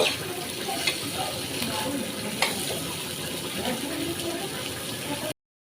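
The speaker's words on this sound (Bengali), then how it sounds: "এইভাবে লাল লাল করে একটু আমি ভেজে নেব" Vegetables for a shrimp curry with papaya, potato and pumpkin sizzle and crackle steadily in a hot pan, a dense continuous hiss with occasional clinks of stirring, close and fairly loud until it cuts off.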